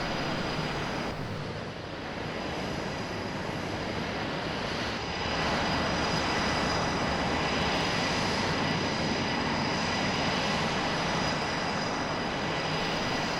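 An F-18 jet engine in the ARMA 3 video game roars steadily and loudly for several seconds, a dense continuous whoosh that swells slightly midway, with no talking.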